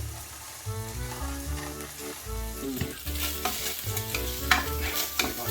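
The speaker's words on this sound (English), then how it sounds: "Guanciale starting to crisp up." Guanciale sizzling and crisping in a pan while being stirred, a dense close sizzle with scraping spoon clicks and a low hum underneath.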